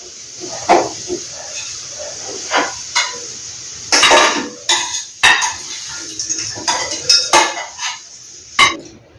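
Metal pots and a pan clink and scrape repeatedly while carrot coconut curry is served out. The sharp knocks land in an irregular rhythm, close and fairly loud, with no talking.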